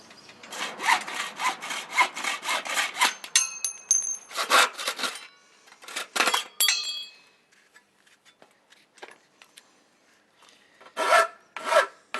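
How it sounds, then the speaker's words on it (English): Aluminium top and bottom sliding door tracks being sawn to width, with steady rhythmic back-and-forth strokes for about three seconds, then shorter bursts of cutting and light metallic clinks and scrapes, close and fairly loud. "We're now ready to trim the top and bottom tracks to your required widths."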